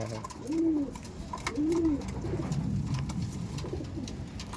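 Pet pigeons coo in a loft, two clear rising-falling coos close by over a soft, busy background of rustling and faint murmuring.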